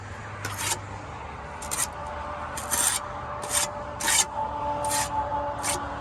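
A bricklayer's trowel works mortar around a brick during a center chimney rebuild, making about eight short, gritty scraping strokes in an uneven rhythm, close and fairly loud, with no talking.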